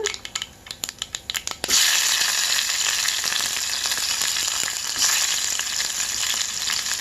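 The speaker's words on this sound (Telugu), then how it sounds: "ఆనియన్స్ని బాగా వేయించుకున్నాను" Onions with curry leaves frying in hot oil for a broad bean curry, a few sharp taps at first, then a loud continuous crackling sizzle.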